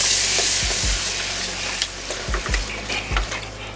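Beef broth is stirred into a flour roux for Swedish meatballs, a bubbling hiss with several low spoon thumps and scrapes against the pan, close and fairly loud.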